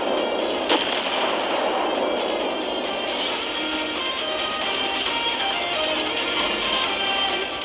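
Warship cannons firing in the naval battle game Naval Creed: Warship, a dense, continuous roar of heavy gunfire with one sharp crack near the start, loud throughout with no pauses.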